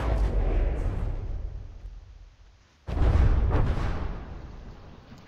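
Rear turrets on a warship in From the Depths fire heavy booming blasts, a loud rumbling barrage that fades into a brief lull before another big boom erupts and rolls on.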